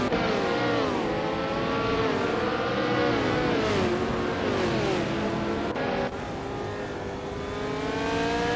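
A 1968 Surtees CS5 racing car engine in a racing video game roars loud and continuous, its pitch climbing and dropping repeatedly through gear changes as it holds its race position.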